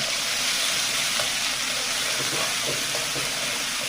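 Onion and garlic paste fries in a pan with a steady, loud hiss and sizzle that fills the whole stretch without pause.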